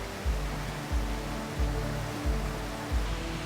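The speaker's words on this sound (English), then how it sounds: "I love the sound of water" Steady broadband rush of water, continuous and fairly loud, with soft low thumps recurring about every second beneath it.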